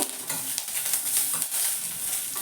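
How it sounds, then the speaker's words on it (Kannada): Capsicum for a North Karnataka-style palya fries in a pan, sizzling continuously as it is stirred with a light, scraping rhythm, heard close up with no voices. "ಇವಾಗ ಮತ್ತೆ ಸ್ವಲ್ಪ ಫ್ರೈ ಮಾಡ್ಕೋಬೇಕಾಗುತ್ತೆ"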